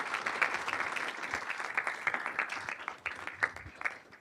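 A quick round of applause from a live audience at a military commanders' forum, dense steady clapping close and loud for about four seconds with a few sharper individual claps standing out.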